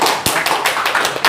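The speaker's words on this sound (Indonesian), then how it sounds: "Oke, aplaus untuk Mas Yoga." Short burst of close, dense clapping from a small group of coworkers applauding at an office farewell gathering.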